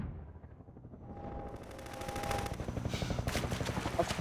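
Gunfire in the video game Half-Life 2, a rapid stream of automatic shots that builds in loudness and density, sustained and close, with no talking.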